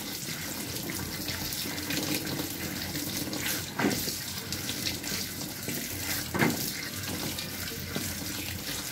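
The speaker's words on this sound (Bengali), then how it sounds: "এবার আমলকিগুলো জলের মধ্যে ধুয়ে নেব পরিষ্কার করে" Gooseberries are rinsed under a running kitchen tap, water pouring steadily into a bowl or sink with a couple of louder splashing swishes as the fruit is stirred, no talking.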